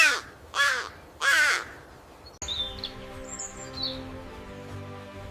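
A crow caws three times in loud, harsh bursts, each call ringing out alone, followed by quieter background ambience with faint higher chirps.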